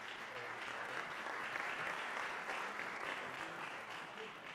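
Sustained applause from a conference audience at a summit on combating human trafficking, a faint, distant, even wash of many hands clapping throughout, with no single claps standing out.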